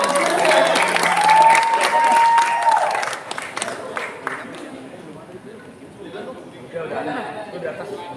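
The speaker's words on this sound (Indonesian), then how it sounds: "Beri tepuk tangan yang meriah." Crowd applause at a Betawi pantun festival performance, loud clapping mixed with cheering and a hall full of chatter, easing after about three seconds into a murmuring crowd with talk and a few lingering claps.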